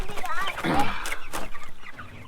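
Meat chickens cluck and murmur close by in a broken, uneven run of calls, with a person's voice mixed in among them.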